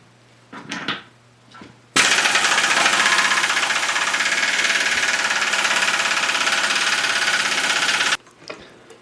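A Shars impact wrench works loose a tightly fastened bolt: a loud, continuous, rapid hammering rattle lasting about six seconds, with brief clicks and handling noise before and after.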